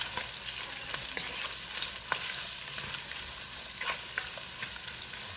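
Chopped onion frying in a pan as the base for Korean kimchi pork stew, a soft continuous sizzle with light crackles and faint stirring scrapes, quiet and steady with no voices.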